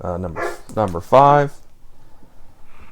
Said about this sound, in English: That was the dog. My dog is going crazy.